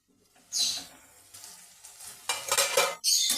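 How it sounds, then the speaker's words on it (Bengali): Yardlong bean seeds are stirred and fried in a pan in a home kitchen, with bursts of sizzling and the scrape of a utensil against the pan, separated by quieter pauses while the pan sits covered. "ঢেকে ঢেকে এইভাবে আমি ভেজে নেব বন্ধুরা"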